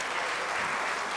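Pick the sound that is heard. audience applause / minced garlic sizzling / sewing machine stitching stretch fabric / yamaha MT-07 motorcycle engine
audience applause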